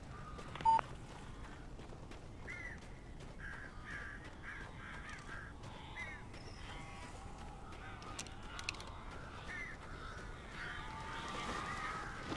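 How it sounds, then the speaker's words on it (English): Crows caw repeatedly in a quiet, dim game scene from Alan Wake, the harsh calls scattered and fairly faint over a low background hiss, with one sharper click near the start. "These birds are weird."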